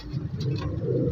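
High-flying pigeons at a Shahdara bird market cooing: a steady, low burbling coo close by, continuous through the short stretch with no speech.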